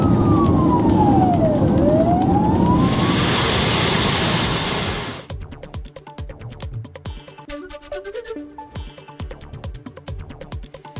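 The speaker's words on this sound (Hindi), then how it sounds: "यूक्रेन के विनित्सिया शहर पर हमले का अलर्ट बज रहा है। खतरे का सायरन।" An air raid alert siren in Vinnytsia, Ukraine wails loud and sustained, its tone falling and rising across the city, then cuts off abruptly into a different sound with a rhythmic, musical texture.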